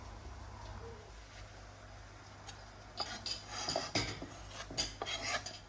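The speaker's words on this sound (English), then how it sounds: "Now we're going to spoon out the avocado." A spoon scraping and scooping the flesh out of an avocado in a kitchen, starting faint and turning into a run of soft, close scrapes and light knocks over the last few seconds, with no talking.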